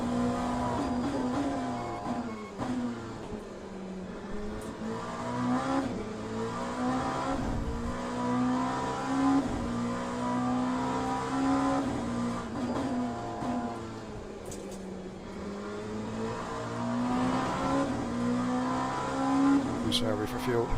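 A race car in the video game Le Mans Ultimate roars through a lap, its engine rising and falling through shifts as it closes on a slower class car, with a voice talking over it.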